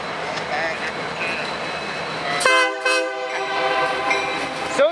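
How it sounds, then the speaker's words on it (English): A ballast train rumbles past with a loud, sustained horn blast cutting in midway, its tones ringing over the rolling noise of the cars. "The ballast train."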